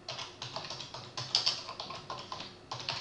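Search text is typed on a computer keyboard, a quick uneven run of light key clicks with a couple of sharper taps, close and fairly quiet, no voice.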